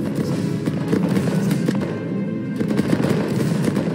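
An army firing a volley in a multiplayer video game battle: a dense, loud wall of overlapping gunfire crackle that runs continuously throughout, with no speech on top.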